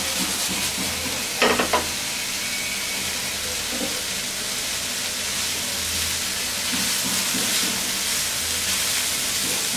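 Dried kachki fish, a small Bangladeshi river fish, fries steadily in a pan, giving a continuous sizzle and hiss with a brief burst of stirring scrapes near the start.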